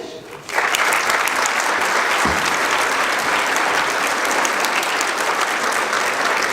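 Sustained conference audience applause for a new secretary breaks out after a brief quiet start and continues steadily, loud and dense, with some cheering mixed in.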